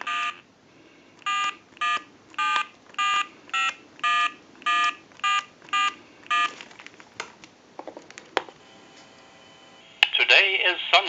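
A quick sequence of about ten touch-tone dialing beeps on an AT&T 530 telephone at an even rhythm, followed by clicks and then a time-and-temperature recorded voice speaking.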